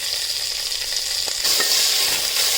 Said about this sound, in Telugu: ఇలా గరిటెతో కలుపుకోవాలి.